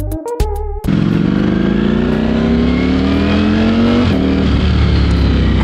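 A Ducati Streetfighter V4S with a dry clutch revs up loud and close on a test ride, a few sharp blips giving way to a sustained rising engine note that climbs steadily, then shifts and keeps pulling.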